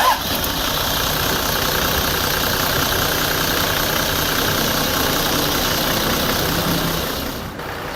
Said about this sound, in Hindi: मैं आपको दोबारा इसकी स्टार्टिंग सुना भी देता हूँ, दिखा भी देता हूँ